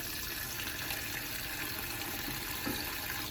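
Cool tap water runs steadily through a strainer in a home kitchen while chow chow relish is prepared for canning, a constant, even hiss of flowing water with no break.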